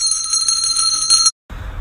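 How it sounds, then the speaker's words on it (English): A bright metallic bell rings steadily with sustained high tones, stops abruptly, then a low rumbling noise follows. "I have questions about these bells."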